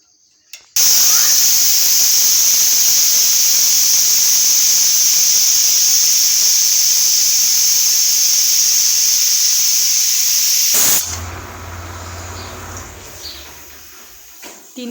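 Steam hissing steadily and loudly from a pressure cooker's whistle on a stove while lentils cook, a bright sustained jet lasting about ten seconds, then cutting off abruptly and leaving low background noise.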